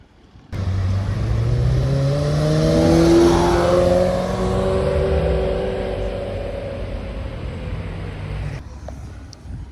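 A Porsche GT3 engine revs up loudly as the car accelerates past on a street in Deauville, its rising and then falling howl sustained for several seconds before cutting off, with no one talking.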